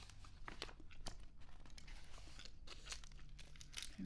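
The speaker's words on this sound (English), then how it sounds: "here's a gum I'm chewing, by the way, this spooky eyeball Halloween gum." Spooky eyeball Halloween gum chewed close to a binaural mic, soft wet crunches and crinkly clicks scattered irregularly over a quiet background.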